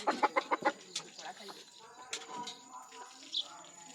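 A quick run of close clucks from chickens opens, followed by scattered softer bird calls and faint background sounds.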